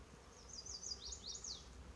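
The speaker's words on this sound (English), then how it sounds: "it's just alive with bees, just the buzzing" Bees buzz along a hiking trail on the Appalachian Trail near Spy Rock, a faint, wavering high drone that rises and falls as insects fly near the microphone, with no talk.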